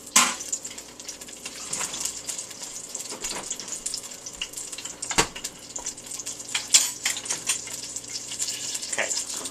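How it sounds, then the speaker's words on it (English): Pork sizzles in a pan on medium heat, a dense crackling hiss with frequent sharp pops and spits, loud and close, with no talking. "That is just sizzling"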